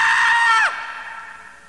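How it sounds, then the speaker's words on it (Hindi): A woman lets out a loud, sustained scream as a horror-story sound effect; it holds steady for over half a second, then drops sharply, leaving a fading echo. "वो जोर से चिल्ला उठी"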